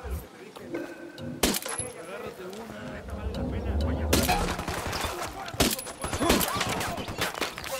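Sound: gunfire in a firefight, from video game Ghost Recon Wildlands

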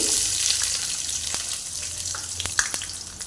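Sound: onions frying in pan for spinach chicken curry

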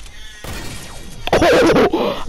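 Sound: sniper rifle shot in the video game Fortnite

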